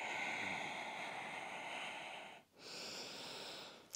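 A person breathes slowly in and out during a posture exercise, one long airy breath, a brief pause, then another drawn-out breath, close and soft.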